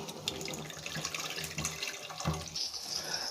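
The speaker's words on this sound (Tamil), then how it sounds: "நம்ம ரசத்துக்கு தேவையான அளவு தண்ணி விட்டாச்சு." Water is poured into a pot of coriander rasam, a steady splashing stream that runs continuously, close and moderately loud, with no talking.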